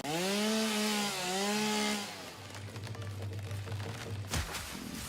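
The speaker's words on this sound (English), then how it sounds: "I now have a working chainsaw." A chainsaw in a factory-building video game revs loudly with a wavering whine for about two seconds, then drops to a lower, quieter idle.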